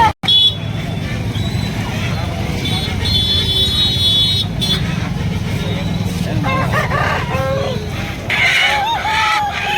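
Rooster crowing at a Sunday chicken market in Nellore, heard amid continuous crowd noise and passing traffic, with a few crowing calls rising above the din toward the end while people talk nearby.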